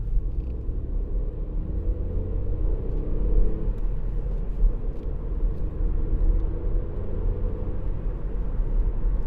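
A 2018 Ford Fiesta 1.0 EcoBoost ST-Line three-door drives along, its steady low engine drone blended with road rumble, heard from inside the cabin at an even level without talk.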